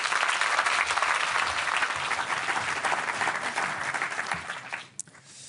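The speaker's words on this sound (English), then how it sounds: "Please give him a warm applause." An audience at a NATO defence forum applauds the Dutch Minister of Defence, steady, fairly close clapping that thins and fades out near the end after a sharp click.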